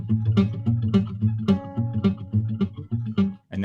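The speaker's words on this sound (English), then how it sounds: "So I taught myself to play the actual notes he was playing and also the echo notes that the machine was making at the same time" Solo guitar plays a melody with bouncing repeated notes that copy the echo of an echo machine, in a steady rhythm with clear, close, ringing plucks.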